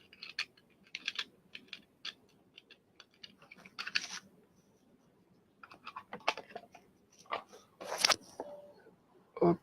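Keys tapping on a computer keyboard in irregular bursts of clicks with short pauses between, fairly close and moderately loud over a faint room hum, with no talking.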